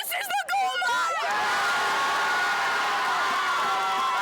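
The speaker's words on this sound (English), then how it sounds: "not just from the home crowd led by the Rams varsity cheer team, but from the opposing student section as well" A high school football crowd, with the home cheer team and the opposing student section, shouting and whooping in a loud, sustained roar after a few sharp yells at the start.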